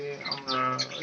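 Budgerigars for sale in a bird-selling setting give a short burst of bright chirps and chatter, near and fairly clear.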